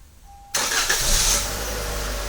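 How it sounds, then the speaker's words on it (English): After a brief quiet hum, a Toyota Camry's engine is remote-started from the key fob, cranking and catching, surging loudly before settling into a steady idle close by. "The engine will start,"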